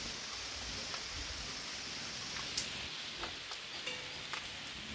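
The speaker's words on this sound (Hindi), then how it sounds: "पहाड़ों में बारिश ही ऐसे ही आती है" Rain falls in the mountains of the Kedar valley as a steady, soft, even hiss, with a few faint drop-like ticks and no voices.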